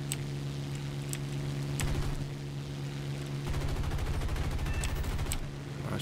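Rapid bursts of P-51 .50 cal machine gun fire in War Thunder, dense rattling volleys over a steady droning aircraft engine, loud and close with short pauses between bursts.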